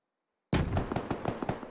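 A grenade going off in the shooter game SquadOps: a sudden heavy blast breaking out of silence, followed by a rumbling tail with rapid crackling pulses, loud and close.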